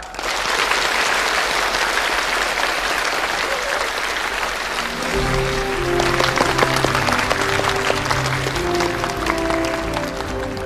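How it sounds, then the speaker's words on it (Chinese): Warm, sustained applause from a large school audience welcoming outstanding student representatives onto the stage, a dense, loud wash of clapping that runs the whole time, with some crowd murmur and voices rising under it. "下面让我们用热烈的掌声欢迎优秀的同学代表上台"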